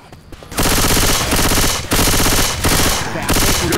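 Sustained automatic gunfire in the video game Left 4 Dead 2, loud rapid bursts of shots broken by two brief pauses, close and dominant throughout.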